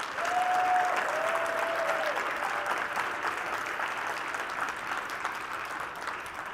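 Sustained applause from a large general-session audience fills the room, steady and fairly loud throughout, with a faint tonal whistle near the start.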